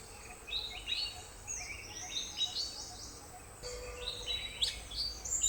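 Southern hill myna calling outdoors in a nature camp setting, a run of clear, high whistles and chirps in short bursts, moderately distant over a faint insect hum.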